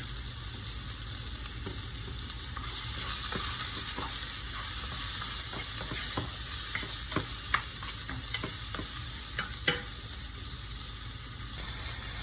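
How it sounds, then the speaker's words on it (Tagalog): Garlic, onion and tomatoes are sautéed in a pan for ginisang ampalaya (bitter melon), with a steady sizzle throughout and scattered clicks and scrapes of stirring. "Habang ginigisa ninyo ang inyong garlic, onion, and tomatoes"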